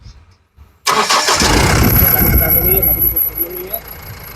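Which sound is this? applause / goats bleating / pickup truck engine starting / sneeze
pickup truck engine starting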